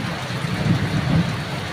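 Rain falls in a steady, close hiss with a low rumbling undertone, continuous and fairly loud across the short stretch.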